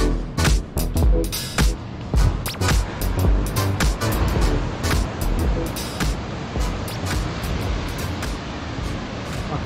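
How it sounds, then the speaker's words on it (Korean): Ocean waves at Da Nang beach after sunrise roll in as a loud, steady surf roar with repeated crashing surges, heard from a hotel overlooking the shore, with no talking. "파도 소리 해뜨고 나서 좋죠."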